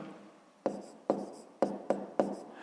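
A pen or pencil writes a math answer by hand, giving five short, distinct taps and strokes at uneven intervals, close and fairly quiet, with no talk.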